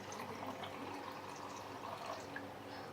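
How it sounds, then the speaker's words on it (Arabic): Cold water poured into a mixing bowl during home cooking, a soft continuous splashing and trickling stream heard close up with no voices. "وهلا أظن حنحط المي الباردة"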